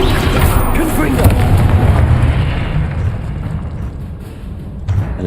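Heavy, booming blasts from the Confringo spell in Hogwarts Legacy, a loud rumbling explosion opening the clip and fading over a few seconds, with a voice mixed in.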